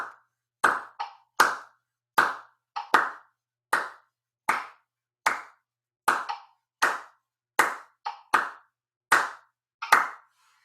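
Hands clapping and a foot tapping together in a steady polyrhythm, sharp close claps alternating with softer taps in a regular repeating pattern for about ten seconds, loud and dry with no voices.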